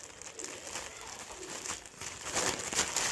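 Bread pulled from a plastic bag makes soft crinkling and rustling that grows a little louder toward the end.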